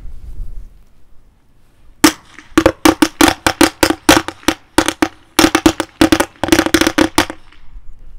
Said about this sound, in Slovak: Ideme si odpáliť takýto klasický koberček a hodíme si to sem do tejto trubky.